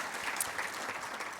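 Distant, faint applause from an audience at a university agricultural graduate salute ceremony, a soft continuous patter of many hands in a large room with a few brief brighter accents.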